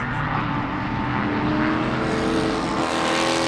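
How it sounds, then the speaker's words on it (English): Race cars at an SCCA event at Sebring sweep through the esses. Their engine roar is continuous and blended, a distant rumble with no talk. "Listen to those cars going along down the S's"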